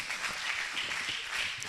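Church congregation applauding children: a continuous wash of many hands clapping at moderate distance, steady and unbroken throughout.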